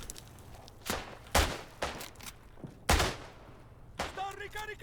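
Gunshots in the World War 1 game Isonzo, set in mountain warfare, with sharp, loud single reports spaced irregularly across a few seconds amid background battle noise and a brief voice.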